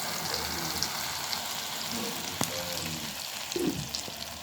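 Tomato juice goes into a hot pot of frying kebab, setting off a steady sizzle with scattered spattering pops and a brief stir near the end, heard close with no talk.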